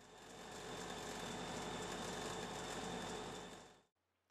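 A household sewing machine stitches a shirt hem in one steady, continuous run of fast mechanical whirring. It sounds close and fairly quiet, then stops abruptly near the end.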